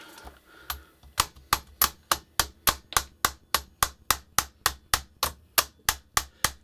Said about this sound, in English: that may require some tapping with a hammer or something